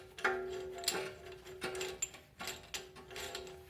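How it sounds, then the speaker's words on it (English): Brake caliper piston compression tool with a number 6 adapter at work on a 2014 BMW X3's brakes, giving a quiet series of ratcheting clicks and mechanical ticks at an uneven pace. "Next we're going to use the brake compression tools using the number 6 adapter and go in."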